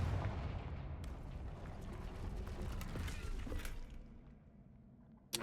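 The Confringo fire spell in Hogwarts Legacy lands as a muffled, rumbling blast with crackling debris that fades over several seconds before a sharp closing hit.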